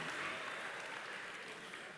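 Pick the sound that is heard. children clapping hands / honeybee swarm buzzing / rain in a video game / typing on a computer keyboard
children clapping hands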